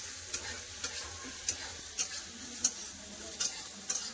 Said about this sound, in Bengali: পেঁয়াজ খুব ভালো করে লাল করে ভেজে নেবো।